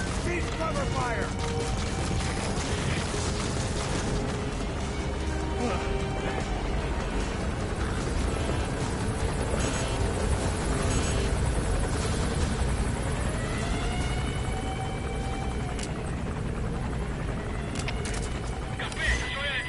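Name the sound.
helicopter in video game Metal Gear Solid V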